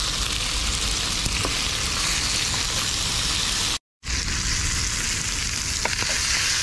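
Garlic pork chops fry on a teppanyaki griddle with a continuous, loud sizzle that cuts out for a split second midway and then resumes.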